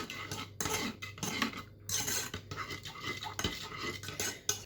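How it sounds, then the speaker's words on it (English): A metal spoon stirring a melting mixture for cornflake tarts in a pan, with repeated scraping and clinking strokes against the metal in an uneven rhythm, close and fairly loud, with no voices. "I should really use a wooden spoon because this metal one is making a bit of a loud noise"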